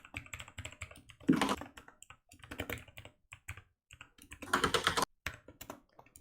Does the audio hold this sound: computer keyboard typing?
yes